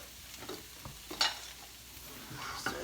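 Beef glass noodles with vegetables being stir-fried in a pan, with a soft steady sizzle, a few scraping stirs and one sharper clatter of utensil on the pan, close by.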